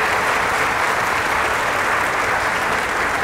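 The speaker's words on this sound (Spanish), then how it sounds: "Un aplauso para que se sienta también." A crowd at a political speech event in Iztacalco, Mexico City, applauds steadily and loudly, a dense continuous wash of clapping that holds without a break.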